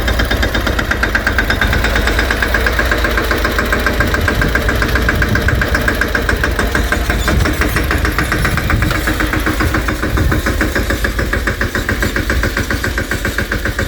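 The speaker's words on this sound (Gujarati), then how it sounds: "ટ્રેક્ટર લઈ જાય છે" A tractor engine chugs loudly and steadily at close range, its rhythmic knocking idle holding constant throughout with no pauses.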